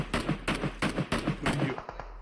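Rapid gunfire in PUBG Mobile during a late-circle scrim fight, a steady string of about ten loud sharp reports at close range with no talking.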